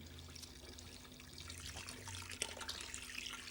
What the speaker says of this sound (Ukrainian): шлангом витягаємо виноградний сік